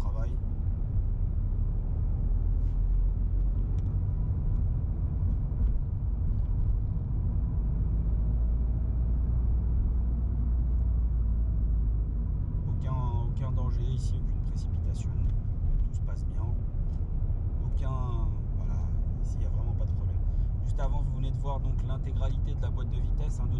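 A car engine hums low in second gear while the car slows, a steady rumble inside the cabin, with a person talking over it and brief clicks later on.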